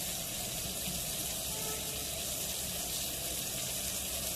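Pieces of kalet fish coated in Agri masala fry in hot oil on a tava, giving off a loud, steady, unbroken sizzling hiss throughout.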